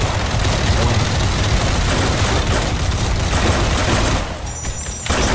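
Dense, continuous gunfire in the Roblox game Decaying Winter, a loud, sustained wall of overlapping shots that dips briefly near the end.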